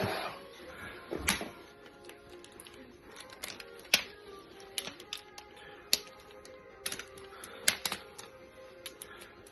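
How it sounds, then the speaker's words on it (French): Sharp mechanical clicks of a ratchet tightening a bolt through an angle with a 6 mm socket on an Audi Q3 DSG gearbox, irregular taps and ticks spread across the clip, close up with a faint background hum. "Et maintenant je vais faire mon angulaire au cliquet."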